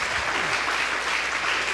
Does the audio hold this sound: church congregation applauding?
yes